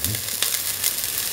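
Garlic hitting hot oil in a frying pan alongside ginger while making mung bean balls, giving a steady broadband sizzle throughout, close and fairly quiet, with no talking.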